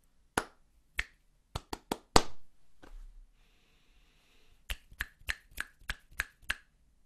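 Finger snaps click out a rhythm, loud and close: a first sparse group of sharp snaps, a pause, then a quicker run of evenly spaced snaps.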